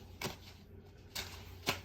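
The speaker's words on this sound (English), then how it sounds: "So we're shuffling along" Tarot cards being shuffled: three short, crisp papery snaps spaced roughly half a second to a second apart, fairly quiet against a near-silent background.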